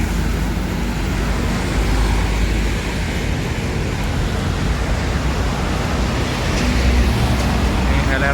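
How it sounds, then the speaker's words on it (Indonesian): Steady roar of busy road traffic after office hours, with cars and buses passing continuously near an LRT station and bus area, a loud, even wash of engine and tyre noise throughout. "Lumayan ramai kendaraan melintas."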